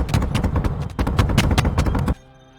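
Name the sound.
gunfire in the video game Space Engineers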